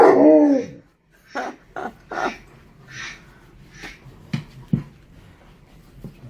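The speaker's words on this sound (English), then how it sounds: "Oh, you gonna howl at the ducks?" A dog howling at ducks makes a string of short yips, whimpers and low howling cries at close range, with quiet pauses between them.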